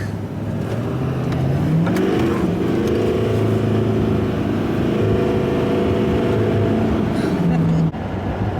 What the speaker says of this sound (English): When it gets going, when the turbo spools and then I get up on boost, it does lag a little bit in between shifts